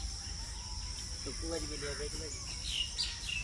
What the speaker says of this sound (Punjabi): ਸਵੇਰ ਦਾ ਪੰਛੀ ਦੀਆਂ ਰੰਗ ਬਰੰਗੀਆਂ ਆਵਾਜ਼ਾਂ